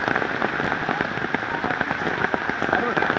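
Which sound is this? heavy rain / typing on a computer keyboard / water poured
heavy rain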